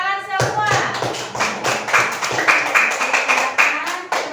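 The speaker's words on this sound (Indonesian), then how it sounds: "Tepuk tangan semua." Pupils in an elementary classroom clap their hands together in a close, rhythmic burst, with sharp individual claps and some taps and thumps, while children's voices chatter underneath.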